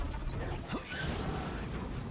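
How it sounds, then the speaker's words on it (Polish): A door creaks open inside the game Remnant 2, a steady mechanical creak and ratcheting grind running the full length at moderate loudness, with no talking over it. "No tu otwórz te drzwi, jak już jesteś."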